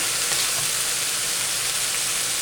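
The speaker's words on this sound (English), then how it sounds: "Let's brown up our ground beef a little bit here" Ground beef browns in a pan for catsup tacos, giving a steady, dense sizzle and crackle of frying meat that runs evenly throughout without pause.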